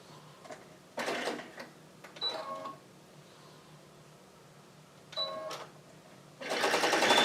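Short bursts of a sewing machine stitching fabric, stopping and starting a few times with quiet pauses between, close and fairly loud, ending in a longer steady run.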